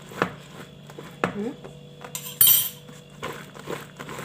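A spoon stirs okra with squeezed lemon juice in a dish, making a few light clinks and scrapes against the bowl at close range, with quiet background hum.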